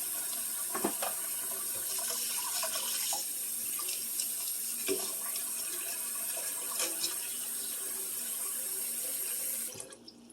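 Cold tap water running steadily into a casserole dish for soaking, a continuous quiet splashing stream with a few small clinks, stopping abruptly near the end.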